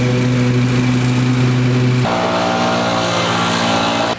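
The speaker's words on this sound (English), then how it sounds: "first there was a lawnmower guy and now there's a leaf blower guy" A lawn mower runs near an RV resort in Heber City, Utah, a steady, loud engine drone that shifts pitch partway through and holds on without talk.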